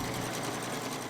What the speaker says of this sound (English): The steady sound of a sewing machine, weaving together a little peace of mind, one stitch at a time.